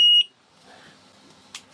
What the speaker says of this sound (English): Oh, there we go, straight into alarm.